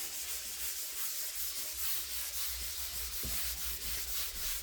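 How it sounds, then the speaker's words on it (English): Steady, continuous sanding rasps across the wooden surface of an upcycled chest of drawers, close and loud with a rhythmic back-and-forth texture and a brief knock partway through. "So we'll sand that, put it to one side"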